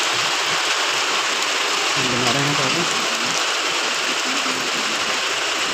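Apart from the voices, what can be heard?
heavy rain falling on a market street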